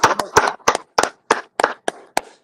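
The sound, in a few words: audience clapping for volunteers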